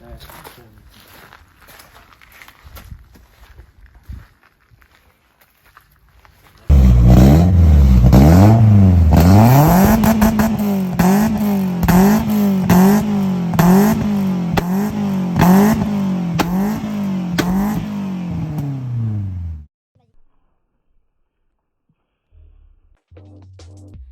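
A Renault Super 5 GT Turbo engine cranks and catches, then revs loudly in repeated rising surges for several seconds before cutting off abruptly; faint voices before and after.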